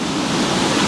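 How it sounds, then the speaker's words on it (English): Gale-force wind blowing outside a tent: a dense, loud, steady roar of rushing air with no breaks, close and continuous. "It's blowing a full gale outside"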